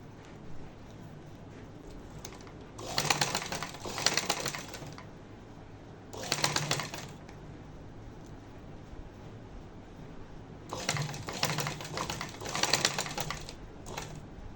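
Sewing machine stitching a corset seam, heard as four separate bursts of steady mechanical whirring and clatter, each about one to one and a half seconds long, moderately close over a quiet room hum.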